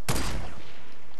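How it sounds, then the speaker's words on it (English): In the video game Fortnite, a loud, sharp burst of rapid gunfire is aimed at an enemy, then quickly fades. "I'm gonna shoot at him. I'm shooting at the front guy in the front."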